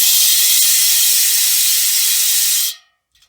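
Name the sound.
ratchet clicking of Profile Elite rear bicycle hub freewheeling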